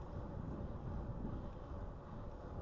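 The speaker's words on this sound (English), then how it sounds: "It's light wind, a gentle breeze, definitely some wind though." Light wind buffets an action camera's microphone aboard a Concord 27.5 sailboat, a steady low rumble of gentle breeze with no voices.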